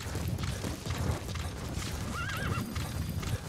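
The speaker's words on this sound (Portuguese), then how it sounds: "É, eu vou pegar o cavalo," A horse whinnies with a rising and falling neigh in the Metal Gear Solid V video game, heard over steady wind and background game ambience.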